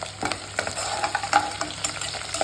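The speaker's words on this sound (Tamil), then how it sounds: "இதெல்லாம் சேர்ந்து ஒரு 5 நிமிஷம் வதங்கட்டும்." Onions and curry leaves sauté in hot groundnut oil, giving a steady close sizzle broken by irregular scraping stir clicks from a spoon in the pan.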